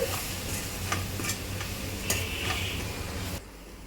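An onion mixture is stirred in a hot pan: a dense, close sizzle with repeated scraping and ticking utensil strokes, which cuts off abruptly near the end and leaves a quieter hum.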